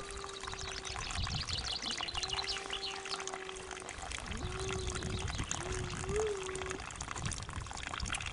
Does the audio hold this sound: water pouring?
yes